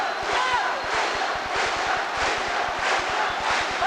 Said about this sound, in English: the crowd is chanting